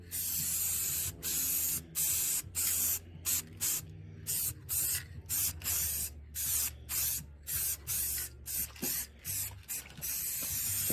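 Spray coating hissing onto a vehicle grill in a string of short bursts, each lasting under a second with brief gaps between, steady and close with no voices.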